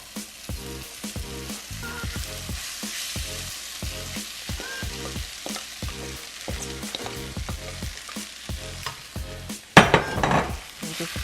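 Quinoa is stirred into a pot of curry with a spoon, making steady rhythmic scraping and soft sizzling strokes. A sharper clatter bursts out near the end, and no one speaks.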